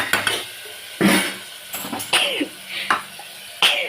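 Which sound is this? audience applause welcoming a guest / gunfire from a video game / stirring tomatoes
stirring tomatoes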